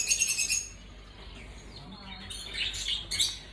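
Caged birds call with high chirps and twitters, several busy bursts near the start and more toward the end over a low background murmur.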